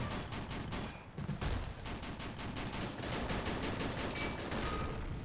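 Infantry covering fire in the war game Men of War: Assault Squad, during a Canadian and British siege of a German hill fort. Rapid rifle and machine-gun shots crackle in dense rhythmic volleys, steady and fairly distant, with no voices.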